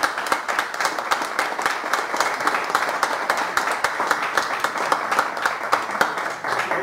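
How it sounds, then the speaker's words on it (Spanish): An audience applauds loudly at a Jewish religious talk, sustained clapping from a sizable crowd at an even, dense level with sharp individual claps standing out, and no speech over it. "un aplauso fuertísimo para mí"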